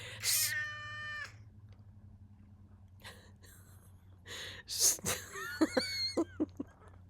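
A house cat meows, starting with one long drawn-out call and later giving several shorter, rising mews close by, over a low steady indoor hum with faint breathy sounds between.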